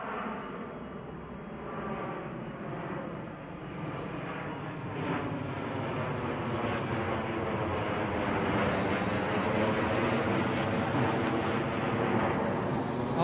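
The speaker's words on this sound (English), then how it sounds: "there's a big plane" A large airplane passes overhead near a cemetery in Walkerville, South Australia, a faint, broad rumble that swells gradually over about thirteen seconds.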